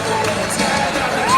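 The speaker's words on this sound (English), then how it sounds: "You hear the crowd because she's back on her feet." A gymnastics arena crowd cheering and shouting as a gymnast gets back on her feet, a loud, dense wash of many voices that swells slightly toward the end.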